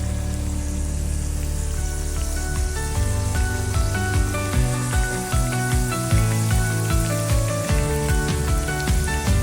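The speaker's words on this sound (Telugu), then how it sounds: "ఆయిల్ మరిగిన తర్వాత ఆయిల్లో మనం ఇలా వేసుకొని డీప్ ఫ్రై చేసుకోవాలి" Dough pastries (kajjikayalu) deep frying in hot oil give a steady, dense sizzle with crackling bubbles and some brighter pops, and background music plays over it.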